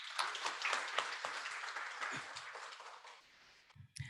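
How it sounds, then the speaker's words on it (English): Audience applause at a technology conference session, a dense wash of many hands clapping steadily for about three seconds, then tapering off into a few scattered claps. "Let's give him another round of applause."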